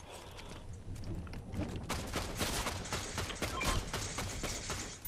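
Rapid automated turret fire in a video game, a dense stream of sharp shots rattling steadily for several seconds at moderate, somewhat distant loudness.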